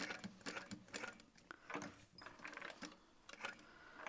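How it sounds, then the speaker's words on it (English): A sewing machine runs slowly at a long stitch length along a close edge of a crossbody bag, making quiet, rapid mechanical ticking bursts in short stop-and-go runs, close and soft. "I'm gonna start with long tails and just sew really close to that edge"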